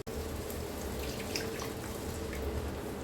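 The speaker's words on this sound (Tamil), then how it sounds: "இதை மீதி இருக்கிறதுல தண்ணி ஊற்றி நம்ம கலந்து சேர்த்துக்கலாம்." Water poured from a tap into leftover ground paste of tomato and cashew for paneer butter masala gravy, a steady close splashing stream with no talking.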